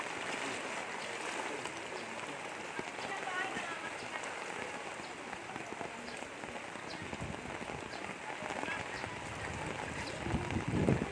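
Steady rushing flood water and heavy rain during a boat rescue in a flooded area, a constant hissing wash with patter, continuous and moderately loud, with faint voices under it.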